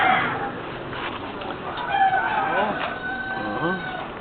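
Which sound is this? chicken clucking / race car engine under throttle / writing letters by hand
chicken clucking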